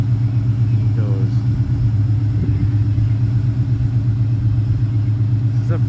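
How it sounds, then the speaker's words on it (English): A Cobra car's engine gives a steady, deep rumble close by that holds at an even level throughout, with people talking over it. "watching my car drive away"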